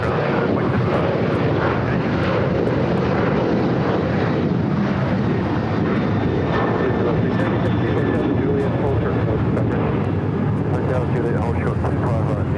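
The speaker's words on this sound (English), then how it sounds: "That was American Airlines Flight 2462 heading to Raleigh" American Airlines airliner departing LAX produces a continuous loud engine roar that sounds broad and constant throughout, with faint radio chatter and voices underneath.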